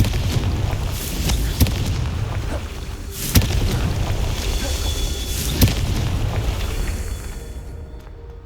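Confringo explosion spell from the video game Hogwarts Legacy, three sharp, loud blasts spaced a couple of seconds apart over a continuous low rumble that fades near the end.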